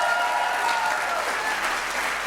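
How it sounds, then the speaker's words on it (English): An audience on a TV talk show applauds for the performers Joseph and Yanya, a full, continuous round of clapping from many people that stays loud and steady throughout. "a round of applause for Joseph and Yanya too here"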